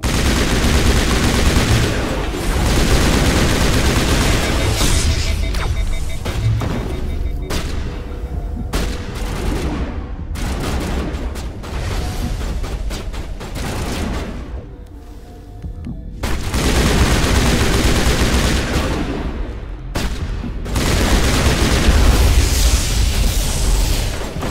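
Sustained gunfire fills a shootout in the Mass Effect video game: dense, loud bursts of rapid shots and booms pile up almost without pause, with only brief lulls between volleys.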